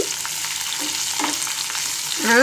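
Spices sizzle and crackle sharply in a hot pan for a couple of seconds, close and steady, with a voice starting at the very end.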